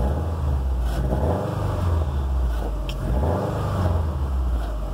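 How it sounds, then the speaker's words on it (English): Subaru or VW car engine that has been sitting too long, giving a couple of quick revs that rise and fall in two rough surges over a steady loud idle, close and continuous, with no talk. "we're just gonna pop a couple little quick revs here"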